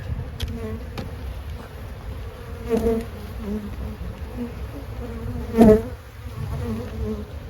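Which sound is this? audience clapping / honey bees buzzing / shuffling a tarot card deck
honey bees buzzing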